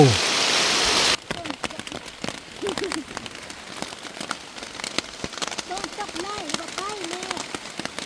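Steady rain patters on a surface, with a few loud close drips and faint voices in the background.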